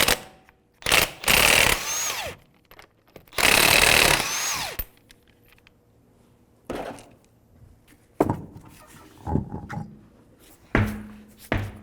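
A power tool with a 19mm socket removes the lug nuts to take a rear wheel off a 2005-2009 Subaru Outback, in several loud close whirring bursts separated by quiet gaps and clunks.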